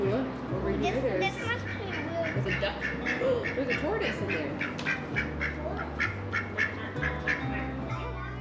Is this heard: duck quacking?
yes